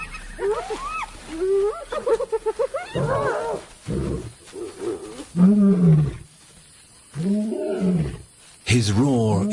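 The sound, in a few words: lion roaring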